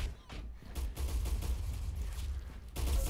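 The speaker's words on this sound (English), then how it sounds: "Lightning cannon. Love this gun." Lightning cannon weapon fired in the Roblox Arsenal shooter game, a dense, continuous crackling barrage of loud gunfire-like blasts lasting throughout, with a brief dip near the start.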